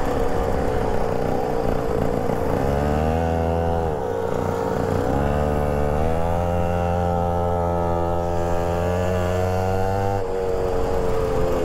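A mini motorbike engine with a stuck throttle keeps revving at a high, whining pitch that rises and falls slightly, loud, close and continuous, with no voices.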